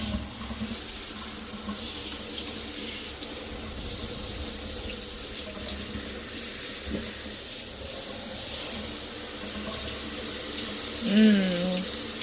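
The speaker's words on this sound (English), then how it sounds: "Helps if you kind of rinse the mud down as you go." Water from a shower pours steadily over a muddy K&N air filter as it is rinsed out, a constant close hiss and splash that stays even throughout.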